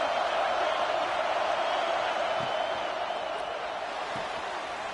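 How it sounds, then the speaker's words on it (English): Stadium crowd at a college football game between FSU and the Ducks, roaring steadily and loudly throughout, a dense continuous wall of cheering from the stands as fans try to help their defense. "Listen to this crowd just shaking the girders of this place"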